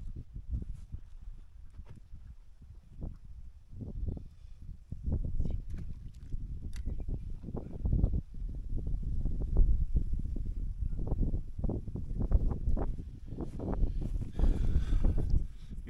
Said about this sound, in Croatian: ali malo je vjetar oslabio, više ne tuče baš toliko.